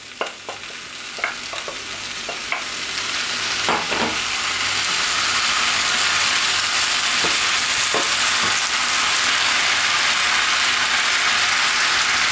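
Sliced potatoes layered with onions cooking in a pan for a potato tortilla over medium heat, a bright hiss that swells into a steady, close sizzle after a few early clicks and scrapes, with no speech.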